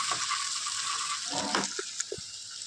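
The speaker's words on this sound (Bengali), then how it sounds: "কাঁচা লঙ্কা দিয়ে ভালো করে নাড়িয়ে নিচ্ছি" Ginger, garlic and whole green chilies frying in a pan for a dhaba-style egg tadka, a soft continuous sizzle with a few quiet scrapes and taps of a spatula stirring.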